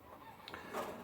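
Chickens at an allotment cluck briefly, close by, over a steady outdoor background hum, with no voices.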